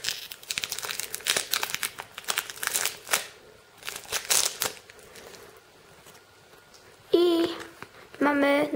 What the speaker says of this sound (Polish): Otwieramy pierwszą zeszytkę.